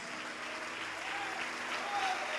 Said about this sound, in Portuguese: vamos aplaudir ao nome do Senhor Jesus